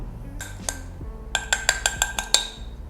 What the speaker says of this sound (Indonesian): Ini bahan-bahan basahnya kita akan aduk dulu